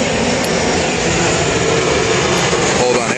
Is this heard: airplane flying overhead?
yes